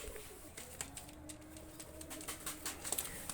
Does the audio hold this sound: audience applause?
no